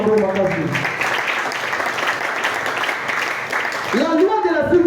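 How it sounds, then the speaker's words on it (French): A church congregation at a Sunday service claps steadily for several seconds in a dense, sustained burst of applause, between stretches of a preacher's voice. "Tu peux acclamer pour le Seigneur Jésus."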